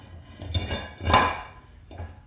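A steel brake rotor slides onto the axle hub of a Sterling 10.25 rear axle during a disc brake swap. It gives a few close metallic clanks and scrapes, with the loudest knock in the middle.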